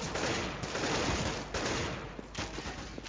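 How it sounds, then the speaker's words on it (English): CS:GO match gunfire: a dense, fairly faint wash of rapid shots and reverberant game noise fills the whole stretch, with a few soft separate cracks toward the end. "Sean comes out, lands a beautiful shot onto Lanny there"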